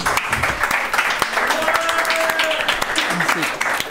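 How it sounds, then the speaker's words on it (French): A live French comedy-show audience applauds unknown artists with a dense, fairly loud burst of clapping, while voices carry through underneath. "Est-ce qu'on peut applaudir les artistes non connus,"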